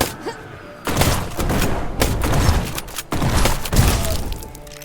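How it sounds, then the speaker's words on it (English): Explosions and gunfire during combat in the video game Black Skylands, a dense fusillade of loud blasts and shots arriving in several bursts over a few seconds with only brief gaps between them. "Okay, the explosion helped."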